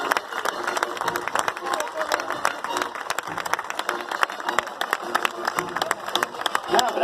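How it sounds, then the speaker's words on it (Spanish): A parade crowd claps in scattered, uneven bursts, moderately loud and continuous, with shouts and voices mixed through the clapping. "Fuerte las palmas, fuerte"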